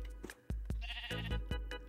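Several short sheep bleats from Minecraft sounding one after another, wavering and tonal, set against a steady low hum, with a clipped burst of a few seconds of layered higher-pitched game sounds partway through.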